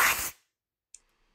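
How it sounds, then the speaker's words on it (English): A short, harsh papery rush of noise from air blown through a book's pages, close and loud, breaking off abruptly, followed by a faint tick and near silence. "you just opened up a book and blown through the pages a bit like this."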